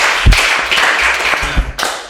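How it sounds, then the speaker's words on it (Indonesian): Close, loud clapping from a small group at a student event, an uneven patter of hands with a few heavy thuds mixed in. "Kasih tepuk tangannya dong."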